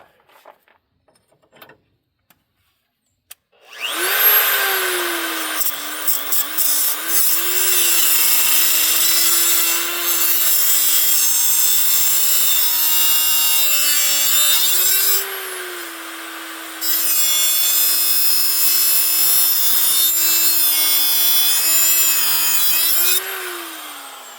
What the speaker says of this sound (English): Looks like I'm halfway through the bolt on one side, and I gotta get halfway through the bolt on the other side.